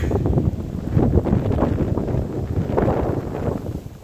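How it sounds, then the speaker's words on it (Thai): Strong wind blows outdoors during a snowstorm in southern Sweden near large pine trees, a loud rumbling gusty roar that buffets the microphone in waves and runs through the whole clip. "ลมแรงมากจ้ะ"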